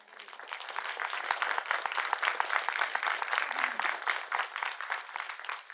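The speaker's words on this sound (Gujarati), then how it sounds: "સાવ આટલી તાળીઓ" Audience applause at a Gujarati poetry gathering, a dense, steady wash of many clapping hands that carries on loudly for several seconds without any talk.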